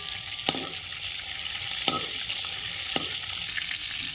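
Prawns frying in hot oil as they are lifted out, a steady close sizzle broken by three sharp spatula clinks against the pan at regular intervals.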